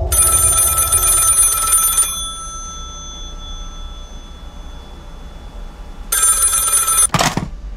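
An old telephone bell in a Five Nights at Freddy's fan game rings loudly in two bursts separated by a quiet gap, with a low background hum throughout and no speech.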